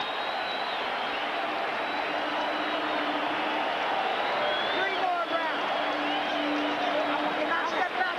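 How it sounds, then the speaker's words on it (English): At the Felix Trinidad vs Fernando Vargas boxing match, the arena crowd stands and applauds both fighters. The cheering is a loud, continuous roar that fills the space beneath a commentator's voice. "They're on their feet, standing and applauding both fighters."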